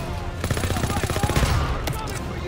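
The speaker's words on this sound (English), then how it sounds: "Where are they shooting me from?" Dense automatic gunfire from the Call of Duty WW2 campaign rattles in rapid bursts over battlefield noise, loud and close, with a voice speaking over it.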